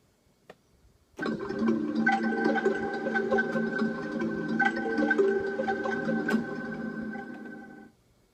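A low, thick synthesizer tone from the Korg iM1 app swells in after a click and holds steadily for several seconds with a buzzy, churning texture before cutting off.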